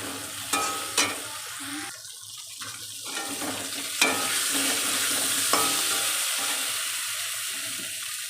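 Green banana pieces frying with turmeric and salt in a pan, giving a soft, continuous sizzle with a few sharp utensil clinks early on and no talking.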